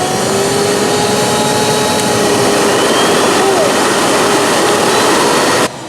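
A BigBoi BlowR Pro electric blower runs at half speed, a loud, close, steady rushing roar like a jet or vacuum that holds for several seconds and then cuts off.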